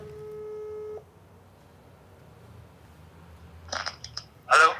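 A telephone is dialed to place a call: a steady tone sounds for about a second, then after a quiet gap a few quick bright beeps and a louder final burst, with no talking.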